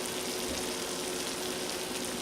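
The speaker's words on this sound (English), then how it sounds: "Hear it sizzling." Cast iron mac and cheese sizzles steadily in its pan, a soft, even crackling hiss heard up close with no talking over it.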